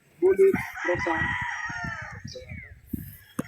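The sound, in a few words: Pure Boston stag rooster crowing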